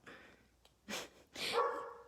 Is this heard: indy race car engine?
no